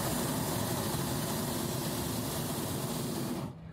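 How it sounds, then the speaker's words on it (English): Hot air balloon burner at a balloon festival in Fall River roars close and loud, a steady broadband blast of flame lasting about three and a half seconds before cutting off abruptly. "we just had to add some hot air into the balloon."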